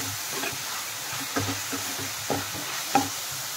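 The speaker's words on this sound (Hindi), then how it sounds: "इनको फ्राई करेंगे अनियन थोड़ा पिंक होने तक" Onions fry gently with ginger garlic paste in a pan, a faint low sizzle broken by three or four distinct scraping clinks of a spoon stirring, quiet and close.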